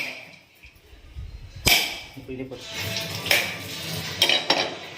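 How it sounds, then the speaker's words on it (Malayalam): A knife's sharp edge strikes the ridge of a hard coconut shell several times in sharp, irregular knocks, close and fairly loud, with a quieter scraping sound between the blows. "ഈ മൂർച്ചയുള്ള ഭാഗം കൊണ്ട് ഈ തേങ്ങയുടെ വരമ്പ് ഇവിടെ ഒരു കൊത്ത്"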